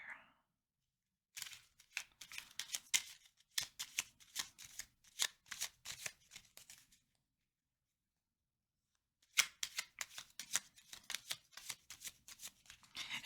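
Tarot cards are shuffled in close, crisp riffling bursts, several quick flurries separated by short silences, with a longer pause before a final run of shuffling.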